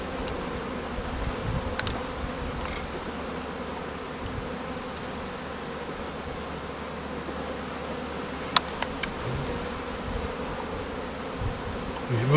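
A honeybee swarm being collected, a dense steady buzzing hum that fills the whole stretch at close range, fairly loud and continuous, with a few faint knocks and handling sounds and no talk.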